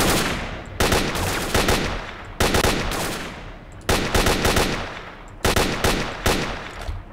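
Bursts of automatic gunfire in the S.T.A.L.K.E.R.: Lost Alpha shooter game, several loud sustained volleys with short pauses between them, close and dense, with no talk over them.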